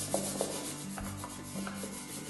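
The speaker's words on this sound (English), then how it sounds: "I take this with my hand and I rub it and spread it out" A hand rubs and spreads glue across a craft box, producing steady close-up rubbing and swishing with rhythmic strokes and no talking.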